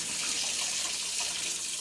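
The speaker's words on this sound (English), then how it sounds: "And, well, I gotta wash them. Rinse them off." Tap water runs steadily as vegetables are rinsed before wilting in hot water, making a continuous even hiss and splash at moderate-to-faint level with no voices.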